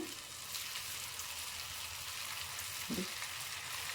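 Potato snacks frying in hot oil, giving a faint, even sizzling hiss that runs steadily through the whole short stretch with no voices.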